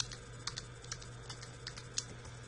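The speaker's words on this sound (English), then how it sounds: "I'm going to log in myself and put your password in" Quick, uneven keystrokes on a computer keyboard as a password is typed to log in to a course site, a handful of crisp clicks close by and alone over a low steady hum.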